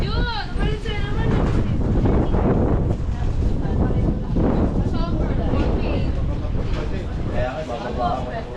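Strong wind buffets the microphone at a roadside outdoor family meal, a constant loud rushing roar under several people talking.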